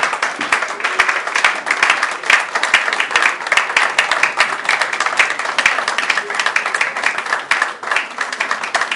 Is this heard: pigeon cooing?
no